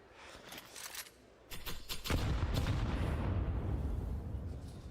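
Counter-Strike 2 grenade explosions: a few sharp distant shots, then a deep booming blast that rolls on as a sustained low rumble.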